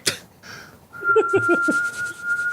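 A person imitates a whistle with a steady, thin high tone lasting over a second, with breathy puffs and a few short voiced bursts.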